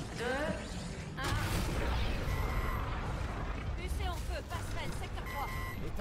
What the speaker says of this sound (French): Alarme de collision.